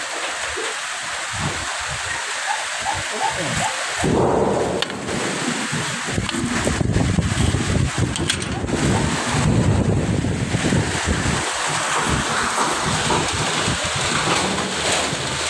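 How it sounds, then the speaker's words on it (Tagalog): Strong wind roars and buffets the microphone continuously, with gusts rising and falling and rattling noises throughout. "Malakas yung hangin."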